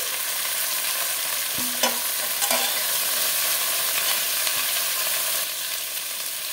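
Malabar spinach stems and pointed gourd fry in a pan with a steady, close, continuous sizzle, broken by a few soft scrapes and knocks as the vegetables are stirred; no voices.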